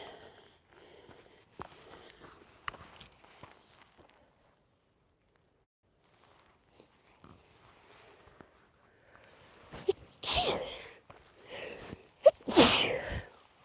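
A couple of loud, sharp sneezes burst out near the end, after quiet stretches of faint rustling and soft sniffing.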